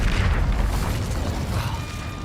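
In Hogwarts Legacy, the Incendio fire spell erupts as a dense, roaring burst of flame with a heavy low rumble that holds steady and loud for about two seconds.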